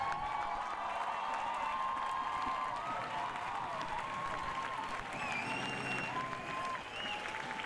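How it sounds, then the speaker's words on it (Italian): Audience at a high school orchestra Christmas concert applauds the choir and conductor, sustained dense clapping from a large crowd, steady throughout, with faint sustained instrument tones sounding underneath. "un applauso al coro, un applauso al maestro Intagliato"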